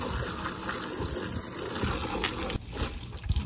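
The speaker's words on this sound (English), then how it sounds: "Finish it off with a hose," A garden hose rinses the hood trim of a 2014 Toyota Tundra with clean water, a steady broadband spray and splash that runs unbroken and fairly loud throughout.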